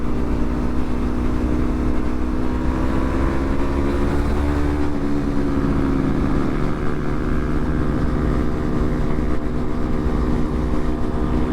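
Continuous loud engine drone with wind rush, a Honda Navi small motorcycle cruising steadily at speed, pitch shifting slightly as it rides along.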